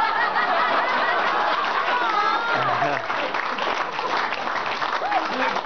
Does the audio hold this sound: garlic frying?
no